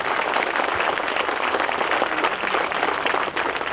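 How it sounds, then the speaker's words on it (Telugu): A crowd at a get-together claps steadily and loudly, a dense unbroken applause lasting throughout with no voices standing out. "వీళ్ళందరికీ మీరు గట్టిగా మనస్ఫూర్తిగా చప్పట్లు కొడితే నన్ను అభినందించినట్టు"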